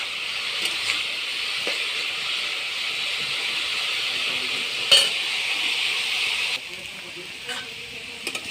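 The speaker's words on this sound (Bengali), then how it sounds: "নেড়ে চেড়ে ভাজি করে নেব, লাল লাল করে।" Sliced radish fried in a pan and stirred until browned gives a steady loud sizzle and hiss throughout, with occasional scraping stir clicks. The sizzle dips briefly in intensity near the end.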